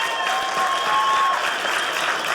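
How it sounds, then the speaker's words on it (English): A comedy club audience claps for Vietnam War veterans, a steady wash of applause filling the room for a couple of seconds, with a faint tonal whistle running underneath. "give them a round of applause"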